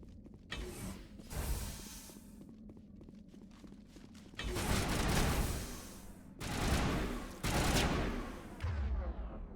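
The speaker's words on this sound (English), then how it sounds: "Tally's using an assault rifle." Mass Effect assault rifle fire crackles in sustained bursts with mechanical clatter between volleys, moderately loud, with no speech over it.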